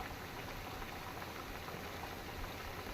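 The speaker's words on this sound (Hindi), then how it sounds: "तेल को अच्छे से गर्म करके एक बार फिर डालो" Potato pakoras fry in hot oil, a steady, dense bubbling sizzle that stays even and continuous throughout, close by and moderately quiet.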